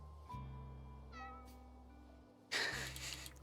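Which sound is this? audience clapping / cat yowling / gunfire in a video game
cat yowling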